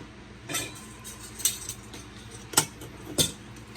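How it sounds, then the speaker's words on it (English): Pepper jelly juice is pushed through a metal strainer with a spoon, giving four sharp metallic clinks spaced a second or so apart over a quiet kitchen background. "basically I'm just running it through this strainer, making sure all the juice comes out"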